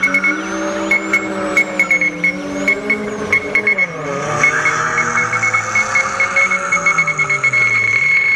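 A two-litre, 129-horsepower BMW E30 Cabrio races on a track, its engine revving and shifting in rising and falling sweeps, close and loud, with repeated sharp clicks over the drone.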